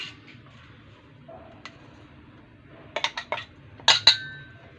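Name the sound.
barley mixture being transferred onto a plate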